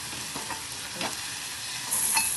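Okra fries in a pan with soft continuous sizzling and a few stirring scrapes, close and fairly quiet, with no one talking.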